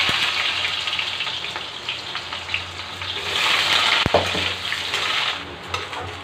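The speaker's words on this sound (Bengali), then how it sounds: "আমি আলাদা করে আর আলু ভাজবো না, এইভাবে আগে এই অয়েলেই ভেজে নেব।" Potatoes fry with black cumin in hot oil in a kadai, giving a dense, continuous sizzle close up, with one sharp clink of a utensil partway through.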